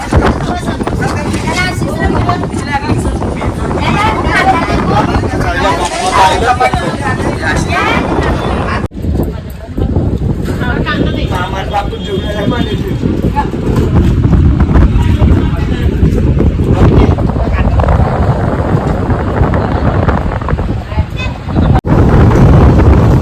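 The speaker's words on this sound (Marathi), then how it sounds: "हा बघा मस्त वारा मारतो." Heavy, steady wind roars and buffets the microphone throughout, with a brief drop partway through before the gusting returns just as strong.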